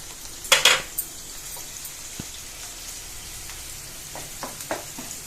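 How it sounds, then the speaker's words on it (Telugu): Ginger paste frying in a pan for a ridge gourd curry: a couple of sharp, close clattering bursts at the start, then a soft, steady sizzle broken by light scattered clinks, with no talking. "కొంచెం వేగిన తర్వాత అల్లం పేస్ట్ వేయాలండి."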